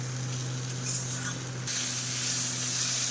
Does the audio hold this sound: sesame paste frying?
yes